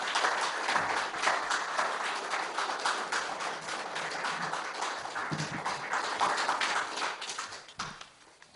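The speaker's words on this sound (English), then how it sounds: "I think you should give the candidates an applause for that" An audience at a political candidates' nomination forum in Trail applauds steadily for about eight seconds, a dense patter of clapping that fades out at the end.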